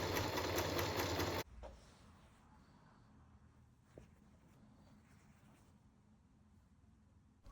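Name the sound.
sewing machine sewing two rows of top stitching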